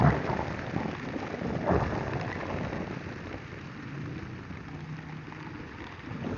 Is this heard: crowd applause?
no